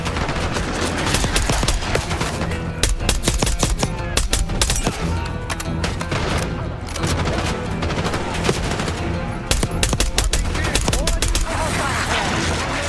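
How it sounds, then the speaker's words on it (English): A hostile's minigun fires in Call of Duty: Black Ops 6, a loud, rapid, sustained rattle of bursts laid over dense battle noise. The fire runs almost without pause for over twelve seconds. "We've got a hostile with a minigun!"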